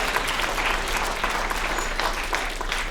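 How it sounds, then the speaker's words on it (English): A school assembly audience claps loudly for the tech crew in a brief, dense burst of applause, close and continuous for about three seconds with no speech over it. "let's give them a round of applause for all of their"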